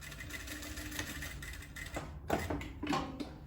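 Close up and fairly faint, a sewing machine runs in a continuous hum while backstitching at the end of a fly seam, with a few brief knocks and clicks near the end.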